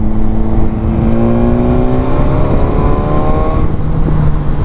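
A BMW S1000R motorcycle exhaust with an aftermarket silencer drones steadily and loudly nearby, its deep throbbing tone rising slightly in pitch as the engine revs.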